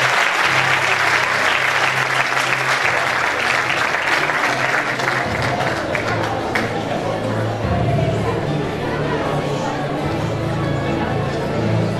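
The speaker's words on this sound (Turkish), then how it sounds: "Bir alkış daha gönderebiliriz." Loud, dense applause from the audience at a school achievement award ceremony, continuous clapping with crowd chatter mixed in and a low musical hum underneath, lasting the full twelve seconds.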